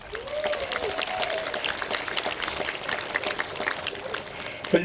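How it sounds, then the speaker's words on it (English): Crowd at a political rally in Henrico County applauding for law enforcement, steady broad clapping through the whole stretch with a faint voice or two mixed in. "let's just take a moment and give our men and women in blue a round of applause."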